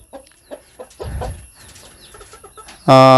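Aseel hen and rooster in a wire cage give a few soft, scattered clucks, then one sudden loud, harsh call right at the end.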